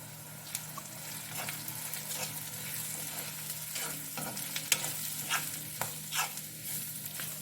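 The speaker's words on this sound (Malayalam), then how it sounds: "നല്ലോണം ഒന്ന് വഴറ്റി കൊടുക്കുക." Spiced crab and prawn roast masala sautés in oil, a steady close sizzle with scraping stirs and soft clinks of a spoon against the pan, heard alone without talk.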